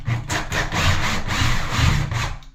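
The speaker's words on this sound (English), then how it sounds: "I'll just pilot drill on the mermaid board." A drill bores a pilot hole into mermaid board shower wall panel, a close, rough grinding buzz with a steady rasping pulse throughout, during a shower room fit-out, with no talking.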